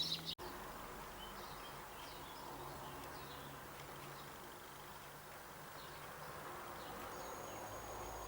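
A bee buzzing faintly around a sparrow nest box outdoors in May, a thin sustained drone over quiet ambience, with a sharp click at the start and occasional distant bird chirps.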